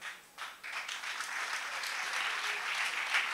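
A church congregation applauding, a sustained patter of clapping that swells after a brief start and continues steadily at moderate distance.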